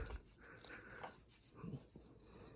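A dog pants and breathes close by in a quiet indoor room at night, soft rapid huffs with a faint whimper, low in level and heard alone.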